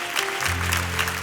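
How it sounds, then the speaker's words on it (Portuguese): Church congregation applauding, a dense wash of clapping with a low sustained tone beneath it, heard in a short burst. "aplaudir bem forte o nome de Jesus nessa noite"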